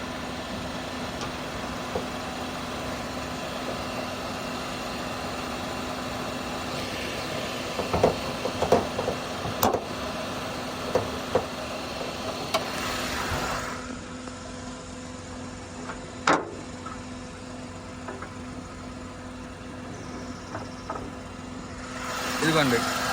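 A first-owner 2017 Hyundai Eon Sports in showroom condition idles with a steady low engine hum and a few faint clicks, heard close while someone talks over it.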